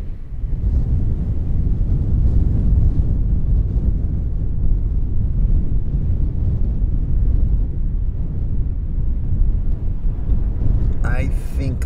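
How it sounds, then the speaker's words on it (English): Strong wind in Death Valley roaring and buffeting a microphone, a constant heavy low rumble that barely lets up. "The wind is very intense now."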